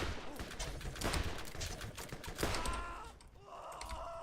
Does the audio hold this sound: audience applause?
no